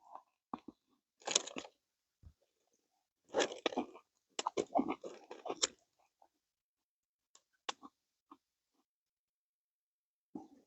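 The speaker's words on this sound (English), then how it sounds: "some of the potatoes are still a bit crunchy" Someone chewing warm, still-crunchy potatoes in a hot tent in the snow, close and quiet, with irregular crunching bursts separated by silent pauses.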